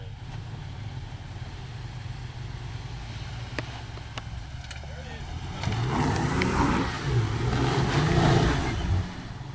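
A Jeep Grand Cherokee Trailhawk engine on an off-road trail, idling low before revving harder in uneven surges as brake and throttle are worked together, with people talking nearby.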